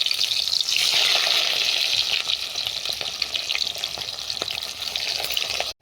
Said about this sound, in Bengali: কড়াটা তেল দিয়ে দিয়েছি, তেলটা গরম হয়ে গেছে। এবার এইগুলো এরকম করে ভেজে নেব।